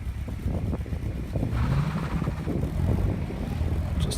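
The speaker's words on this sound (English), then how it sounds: "Just a nice bit of wheel spin to get away." A race car launches from the line at a long-course sprint, its engine revving hard with wheel spin and wind buffeting, close and loud throughout.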